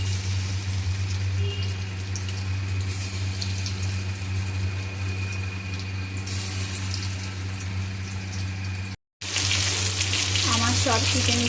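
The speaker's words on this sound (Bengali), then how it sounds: "আবার আমি বাদবাকি চিকেনগুলোকে আমি আবার দিয়ে দেবো কড়াইয়ের মধ্যে।" Chicken pieces fry in hot oil in a wok for a restaurant-style chili chicken: a loud, steady, close sizzle with a low hum beneath, briefly cutting out near the end.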